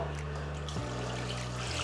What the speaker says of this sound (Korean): 물도 아주 시원하게 잘 내려갑니다.